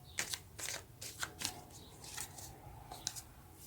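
A deck of tarot cards is shuffled close by and softly. Quick riffling flutters and light taps repeat over a few seconds.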